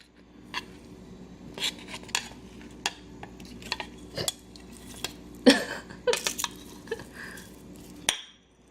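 Rice is scooped for baked sushi with a utensil that scrapes and clinks against a bowl or dish in a series of short, irregular taps and scrapes, close by, with no talking.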